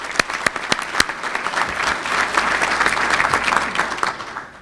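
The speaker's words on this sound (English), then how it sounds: "So give them a round of applause as well." An audience at a city government address breaks into applause, with a few sharp individual claps at first swelling into a sustained, moderately loud crowd clapping that tapers slightly at the end.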